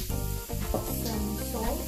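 Manchurian gravy ingredients sizzle and hiss steadily as they are sautéed and stirred in a hot pan, a close, continuous frying sound with no talk.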